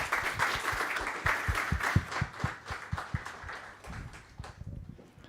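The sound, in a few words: audience applause for a speaker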